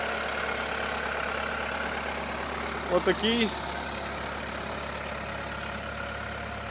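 A 2009 Kubota SMZ 95 tractor engine, 94 hp, idles steadily at close range with a low, even hum, and a voice briefly speaks over it midway.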